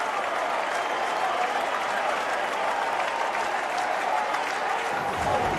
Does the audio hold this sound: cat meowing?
no